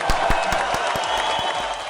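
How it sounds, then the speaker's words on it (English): A few people clap their hands at an even, quick pace, the crisp claps close and moderately loud over a soft background murmur. "Can we give a hand clap?"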